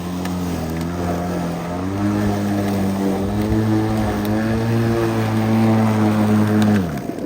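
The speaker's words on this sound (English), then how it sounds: "Now see, the mower doesn't like that." Electric lawn mower cutting grass hums with a steady, strong motor drone, its pitch dipping and rising as the blades bog down in thick growth, then winding down at the end.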